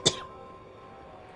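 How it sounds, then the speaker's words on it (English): A single short cough bursts out at close range at the start, then fades into quiet room tone with no talking. "where did that cough come from?"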